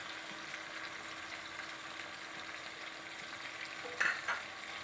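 A spice paste of turmeric, chili, cumin, coriander, ginger-garlic, nut and fennel pastes fries in a pan for a whole-fish roast, a faint, steady low sizzle with a couple of brief clinks near the end.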